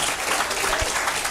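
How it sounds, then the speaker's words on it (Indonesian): Audience applause during a business motivational talk, a short steady burst of clapping that fills the whole moment without any voice over it. "Tepuk tangan dulu dong."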